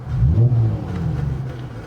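2019 Dodge Charger 3.6 V6 fitted with a Solo Performance Mach XV exhaust, heard from inside the cabin as a low, muffled engine rumble that swells in a short rev and then eases back.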